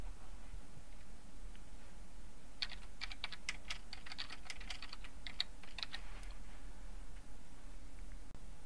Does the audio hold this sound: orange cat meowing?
no